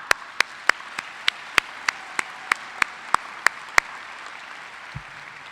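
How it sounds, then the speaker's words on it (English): Graduation crowd applause for teachers at a Catholic high school's 2021 ceremony: about a dozen sharp, evenly spaced claps ring out loud and distinct over a soft wash of background clapping, ending with a brief low thump. "Let's give them a round of applause."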